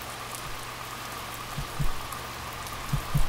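Rain falling in The Music Machine video game, a steady soft hiss with a few low thumps rising over it.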